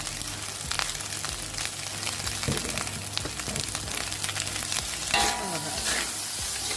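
Sauce added to a hot pan of pineapple rice sizzles and crackles loudly and steadily while it is stirred, with scraping and clinking of the utensil against the pan.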